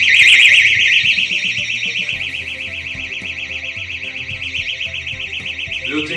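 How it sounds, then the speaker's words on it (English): A loud, warbling motorcycle security alarm wails continuously and steadily, close by, with faint background clatter underneath. "Activate the alarm."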